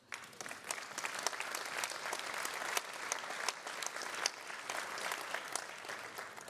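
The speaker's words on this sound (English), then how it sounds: "a round of applause for CDP and to everyone in our audience" Audience applause at a European awards ceremony for climate disclosure, sustained many-handed clapping from a large crowd, moderately distant and steady throughout with sharp individual claps standing out.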